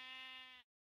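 A single sheep bleat from Minecraft, a clear harmonic tone that holds steady for just over half a second and then cuts off into silence.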